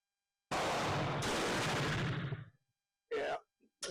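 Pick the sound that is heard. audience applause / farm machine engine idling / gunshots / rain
gunshots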